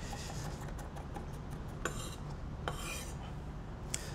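A knife working garlic on a cutting board, soft scraping and rubbing strokes with a few sharp taps of the blade against the board, close and fairly quiet with no talking.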